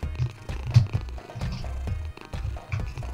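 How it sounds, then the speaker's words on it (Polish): A cat in the video game What's Under Your Blanket 2 purrs with a low, rhythmic rumbling that pulses steadily and close by, with no talking over it. "znowu ten zjebany kot"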